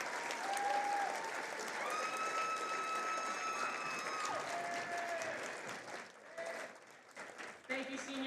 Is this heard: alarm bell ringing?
no